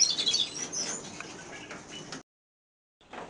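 Redpolls and siskins flap their wings in an aviary, a close flurry of rustling wingbeats with faint chirps, then a brief silence before more fluttering resumes.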